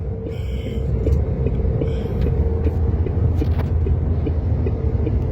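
A truck drives along a road in the video game Truckers of Europe 3, its engine a loud, steady low rumble with a constant mid-range drone and no pauses.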